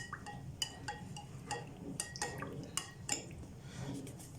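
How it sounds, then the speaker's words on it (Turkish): Sauce of chili flakes and olive oil stirred in a bowl with a spoon for Gaziantep onion kebab, giving quiet repeated clinks and scrapes against the bowl. "Ve sosumuzu güzelce karıştırıyoruz"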